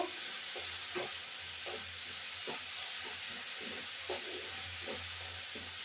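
Sizzling oil hisses steadily in a pan of koi fish curry as a little water goes in, with soft periodic stirring thumps and scrapes beneath, close and constant, no voices.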